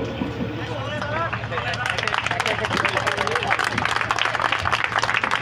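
A voice speaks briefly, then a crowd at a student association event breaks into loud, sustained clapping that fills the rest of the moment.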